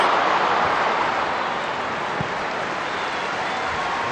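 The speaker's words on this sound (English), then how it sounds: "The crowd urging that ball into the net." Football stadium crowd at an England versus Italy women's match, a steady broad roar of many voices surging as the ball nears the net, filling the space continuously without a break.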